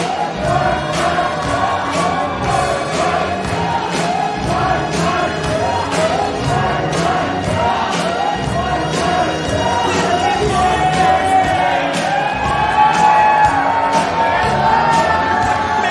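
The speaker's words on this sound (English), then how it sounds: "listen to this crowd come up for the AML Wrestling Champion, White Mike" A wrestling crowd at an AML Wrestling steel cage match roars and cheers for the champion, a loud, sustained wash of shouts and whoops filling the arena.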